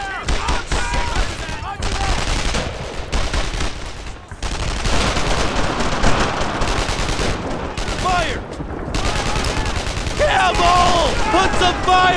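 Heavy gunfire in the WWII video game Brothers in Arms, set around St. Sauveur, France, 1944: loud, dense, sustained rifle and machine-gun bursts, with shouting voices mixed in.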